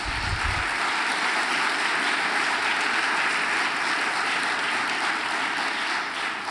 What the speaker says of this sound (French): je pense qu'on peut faire une ovation à Denise Bombardier